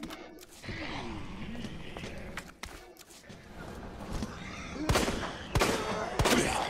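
Gunfire in the Resident Evil 2 Remake video game: a few sharp, loud shots crack out in the second half, separated by short gaps, over a busy in-game background.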